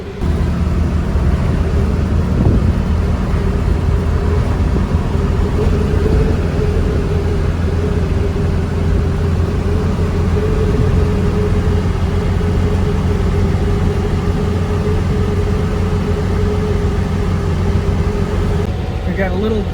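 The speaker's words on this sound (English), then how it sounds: "It sounds like the exhaust leak is maybe getting a little bit worse" A 1957 VW Oval Beetle's air-cooled engine runs with an exhaust leak while driving, a loud, steady low drone with a continuous hum and road noise throughout, unchanging in level.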